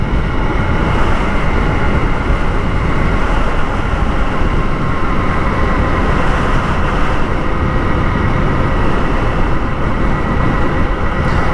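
A Honda CRF300L motorcycle cruises in sixth gear, its engine a steady, unbroken drone blended with heavy road and wind rush throughout.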